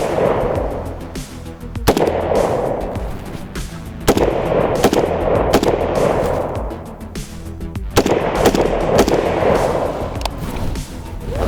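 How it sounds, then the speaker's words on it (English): Rapid rifle shots from a Krinkov fitted with a muzzle brake, sharp loud cracks in spaced groups of quick bursts, each followed by a ringing echo. "The next 3 shots are gonna be kind of rapid fire, but still trying to be accurate."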